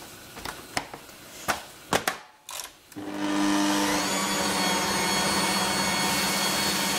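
An electric mixer whisks meringue for a strawberry pavlova. A few light clinks and taps come first, then the motor starts a loud, steady whirring drone that runs without a break to the end, with no talking.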